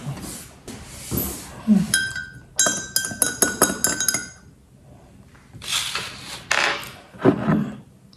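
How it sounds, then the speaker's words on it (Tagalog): A spoon stirs chai tea in a cup at a Paris eatery, giving several bright, ringing clinks against the cup in a quick cluster mid-way, with softer clatter and faint background voices around it. "Teka, haluin na."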